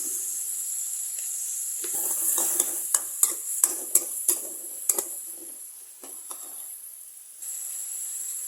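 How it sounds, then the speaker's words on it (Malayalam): Curry leaves and salt are stirred into a papaya stir-fry frying with tomato in a pan, a steady close sizzle overlaid by repeated sharp scrapes and taps of the spoon against the pan. "കുറച്ച് കറിവേപ്പില ഇട്ട് കൊടുക്കാം ഒരു അര ടീസ്പൂൺ ഉപ്പ്"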